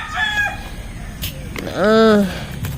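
A rooster crows once, loud and nearby, with faint clucking and background noise before it.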